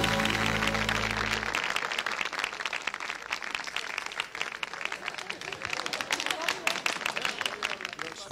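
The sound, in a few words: audience applause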